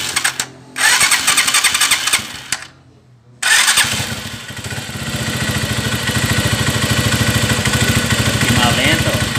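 A 2010/11 Honda Mirage 150 motorcycle with a battery-charging fault starts up after a couple of cranking attempts, then settles into a loud, steady, close idle.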